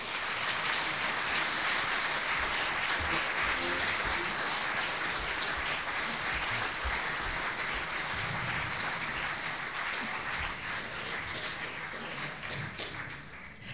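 Audience applause at a winter CD launch event as performers walk to their seats, a dense, steady clatter of many hands that fills the room for the whole stretch and fades slightly toward the end.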